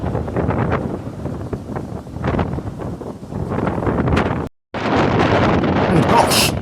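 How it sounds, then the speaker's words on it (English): Strong wind buffets the microphone on the open deck of the Condor Liberation fast ferry at cruising speed, a loud continuous roar with gusty swells and one brief dropout, with no speech over it. "And gosh, the wind is really picking up too."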